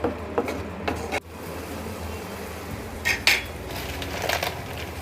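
Yogurt gravy with onion and tomato being stir-fried in a pan, heard as a few sharp clinks and scrapes of a spoon against the metal, spaced apart over a quiet background with no talking.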